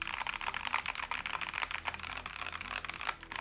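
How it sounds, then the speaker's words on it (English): Steady fast typing on an MK870 custom DIY mechanical keyboard, a dense run of close, crisp keystrokes clacking continuously with no talking. "Nice and clacky, but creamy at the same time."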